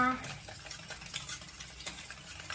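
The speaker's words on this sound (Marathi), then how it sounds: "आपण हे फेटून घेऊया. साखर विरघळीपर्यंत फेटून घ्या." Donut batter being whisked until the sugar dissolves: quick, rhythmic whisk strokes against a bowl, soft and steady, with faint background voice near the start.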